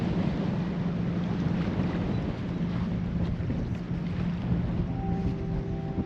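Strong wind blowing over Lake Perris while bluegill fishing from a boat, a steady broadband rush and buffeting against the microphone with lapping water beneath, continuous and loud with no talk.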